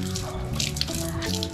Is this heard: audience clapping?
no